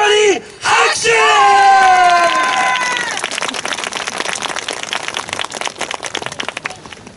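Audience at a samurai and ninja show at Nagoya Castle breaking into loud cheers and yells, then a long burst of dense clapping that thins out toward the end, with voices shouting over it.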